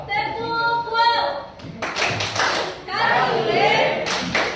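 A group of people in a classroom lesson stands and claps along in rhythm, with bursts of hand claps and thumps between stretches of voices talking.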